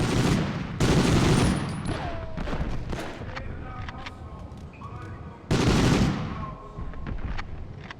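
Gunfire in the Medal of Honor video game, heavy bursts of shots and blasts at the start and again near the end, with continuous rattling combat noise between.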